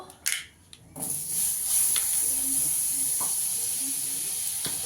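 Butter sizzles in a hot kadai: a few brief knocks, then a bright, steady hiss that starts abruptly and holds loud and close until the end.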